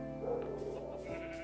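Sheep in the Minecraft video game bleat in short wavering cries, two or three overlapping calls at moderate volume with a faint background hum, no talking.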